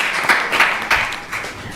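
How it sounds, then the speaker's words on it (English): A temple congregation claps for a feast sponsor, a brief scattered round of hand claps in a reverberant hall with uneven, pulsing bursts. "If you can please give her a round of applause."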